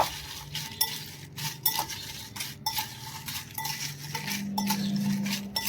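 Fried banana wafers tossed with ground pepper and rock salt give intermittent rustling, clattering bursts of mixing in a bowl, close and moderately loud, with short pauses between shakes.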